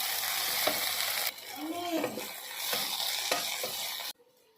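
Okra fries in a pan with salt and turmeric, a steady crackling sizzle broken by the scrape and clatter of stirring, close and fairly loud until it cuts off abruptly near the end.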